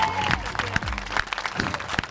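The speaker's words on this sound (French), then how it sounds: "On peut l'applaudir quand même." Spectators at a Lyon freestyle football "pas toucher" trick contest give brief, scattered applause after a missed high-basket trick, with sharp individual claps over crowd murmur and a voice talking.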